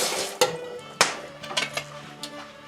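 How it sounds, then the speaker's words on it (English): A spoon stirs lobscouse, an 18th-century stew of potatoes and carrots, in a pot, making a few clinks and scrapes against the metal at an uneven rhythm, close and fairly loud. "Let's give this a little stir."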